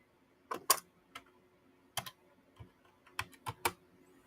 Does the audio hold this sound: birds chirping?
no